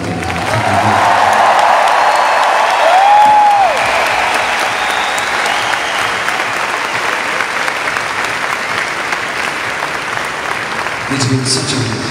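Concert audience applause and some cheering at a live Jubilee concert, loud, sustained clapping from a large crowd that carries on throughout with faint voices mixed in.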